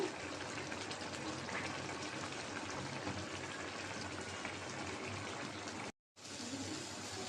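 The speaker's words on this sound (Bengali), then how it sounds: "মাছটা বলক এসেছে ঢাকনাটা তুলে দিলাম" A pot of mola fish chorchori comes to a boil, a steady bubbling, hissing rumble heard close and continuous, with a brief silent break near the end.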